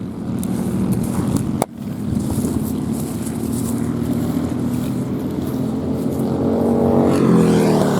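Race cars lapping a circuit during a seven-hour endurance race, with a continuous loud engine drone and a single sharp click early on, rising slightly toward the end as a car draws nearer.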